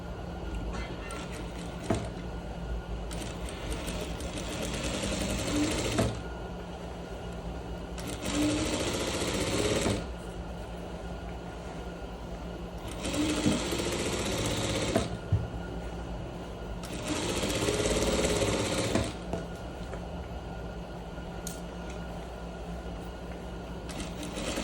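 A sewing machine stitches pleats in a pair of trousers in four or five rapid whirring bursts, separated by short pauses, heard close up with faint background noise between runs.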